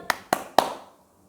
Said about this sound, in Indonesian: Tepuk tangan di depan 3 kali.